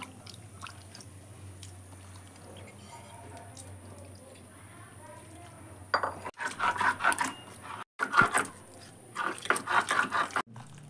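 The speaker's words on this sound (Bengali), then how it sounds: "নিয়ে শিলনোড়ায় বেটে নেবো" Chopped fish is ground on a sil-nora grinding stone, producing rhythmic wet scraping and squishing strokes in bursts, loud and close, after a quieter stretch of low background noise.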